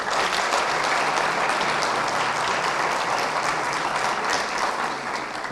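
Dense, sustained audience applause at a university concert marking the 19 May Atatürk Commemoration, Youth and Sports Day, as a music student is welcomed to the stage; steady, loud and close, with no speech over it.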